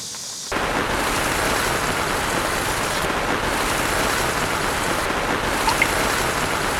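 Rain drums on a camping tent in a loud, close, continuous wash of patter that starts abruptly and holds steady without talking.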